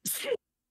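A single quick sneeze, close and fairly quiet, followed by silence.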